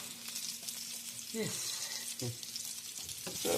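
Beef heart sizzles steadily in a hot pan while a utensil scrapes and stirs it, with faint voices in the background.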